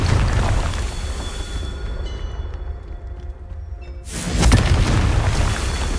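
A blasting spell explodes in a fantasy video game, a deep booming burst that rumbles and decays, followed by a second loud blast near the end.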